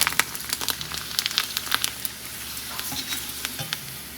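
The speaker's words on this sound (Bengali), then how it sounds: "অল্প তেলেই ফুচকাগুলো ভেজে নিচ্ছি" Fuchka frying in a little oil in an iron wok, a steady close sizzle with frequent sharp crackles and pops throughout.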